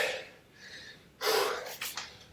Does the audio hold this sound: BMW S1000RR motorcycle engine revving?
no